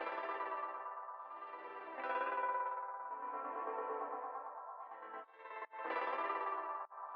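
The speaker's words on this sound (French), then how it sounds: "Faites un peu de reverb et par-dessus, je vais rajouter un portal." A sustained, shimmering electric guitar tone drenched in reverb and warbling echo from a Portal effect plugin, swelling and briefly cutting out near the end.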